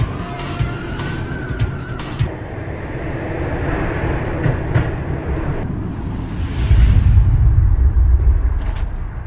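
A train ride in the Max Payne video game: a steady low rumble with a few sharp clicks early on, swelling louder and heavier toward the end, with no talking over it.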